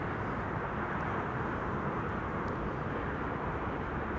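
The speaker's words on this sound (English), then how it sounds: "audio of the wake turbulence" Wake turbulence trailing a landing airliner at Amsterdam Schiphol, a broad, steady roaring whoosh that rumbles continuously and close, with no voices.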